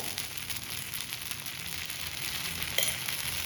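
Dosa batter sizzles steadily in oil on a hot pan, a close, continuous crackling hiss with no voices.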